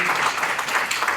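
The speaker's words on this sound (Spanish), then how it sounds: "un fuerte aplauso para nuestro" Audience applause at a forum on José Carlos Mariátegui, a dense steady wash of clapping with no gaps, filling a short moment.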